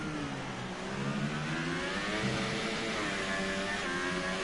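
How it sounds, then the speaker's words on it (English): A Formula race car engine screams and revs continuously through an on-board lap at the Singapore street circuit, its high-pitched whine rising and falling with gear changes, loud and close with no talk. "A lot of revving."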